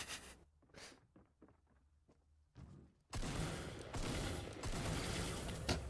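Quiet clicks and taps, then a sudden loud burst of rapid gunfire in Fortnite that keeps going in dense, crackling volleys.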